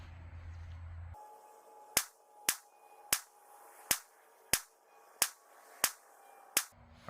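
Eight sharp, evenly spaced pistol shots from a Nighthawk Custom 1911 at a shooting range, each a loud crack followed by a brief decaying echo, fired at a steady deliberate pace after a short low rumble.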